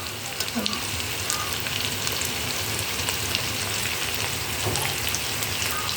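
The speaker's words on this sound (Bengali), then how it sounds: "এবার আমি দিয়ে দিচ্ছি এক চামচ জিরের গুঁড়ো" Ground cumin hits a pan of hot oil with ginger-garlic paste while cooking chicken, giving a steady, close, broadband sizzle and crackle throughout with no let-up.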